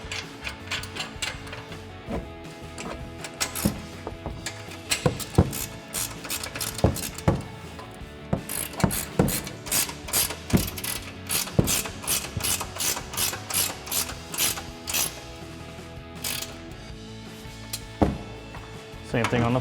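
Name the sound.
21mm ratcheting wrench tightening upper control arms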